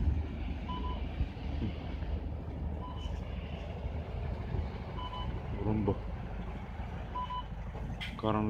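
Idling school bus in the dark as children board, with a low steady engine rumble and regular reversing-style beeps repeating about every two seconds, while someone talks over it.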